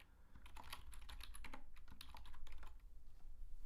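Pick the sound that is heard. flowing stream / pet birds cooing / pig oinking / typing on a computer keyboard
typing on a computer keyboard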